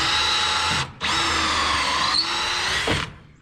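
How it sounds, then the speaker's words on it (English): A power drill fitted with a long auger bit bores at an angle through a wooden top plate during house framing rough-in, a loud steady whine in two runs broken by a brief pause, then trailing off. "we can drill through and get to that light"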